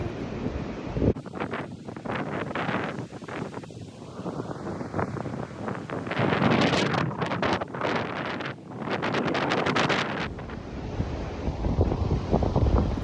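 Blustery wind gusts across the microphone at a beach, with surf rushing underneath; loud, rough and continuous, no one speaking.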